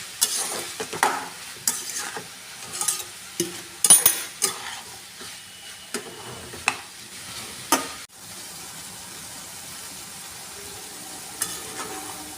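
Cucumber and prawns with salt stir-fried in a pan, a soft sizzle under repeated scraping and clinking spatula strokes at an uneven pace, close up, quieter and steadier after about eight seconds.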